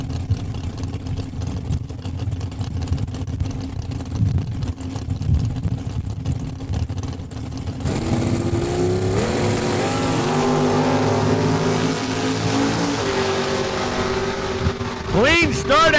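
Drag race cars at Saskatchewan International Raceway, idling with a low engine rumble before a loud multi-engine roar surges up as they launch from the start line over the quarter mile, with a voice commentating over the engines and a rising whine at the end.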